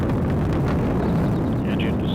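An Atlas V rocket engine roars at full thrust during launch, a dense continuous broadband rumble with a crackling edge that stays loud and unbroken throughout.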